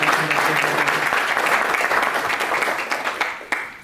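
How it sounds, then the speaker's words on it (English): An audience at a county commissioners' court session applauds all-state students, dense close clapping sustained for a few seconds before thinning out into scattered claps. "So a round of applause for all the all-state."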